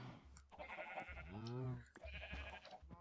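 Sheep bleating in Minecraft, a few wavering bleats in close succession with a long central cry, mixed with a player's faint voice.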